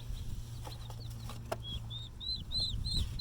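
Two young turkeys give soft, rising peeping calls several times in a row, fairly close, over a low steady hum.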